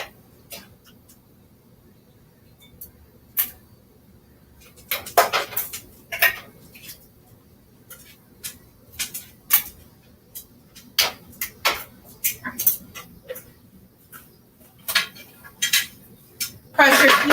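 Glass canning jars lifted out and set down one after another after canning Creole sauce, giving sharp clinks and knocks in irregular bursts. A busier cluster of rattles comes near the end, and the room is otherwise quiet.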